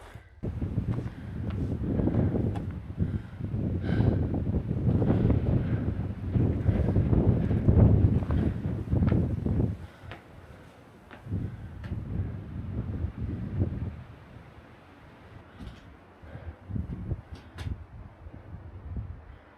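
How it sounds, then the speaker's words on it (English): Wind gusts across a steep mountain trail near the summit of Mt Livermore (Baldy Peak), loud buffeting rumbles against the microphone in long surges that ease off partway and return in weaker bursts. "the wind's picking up"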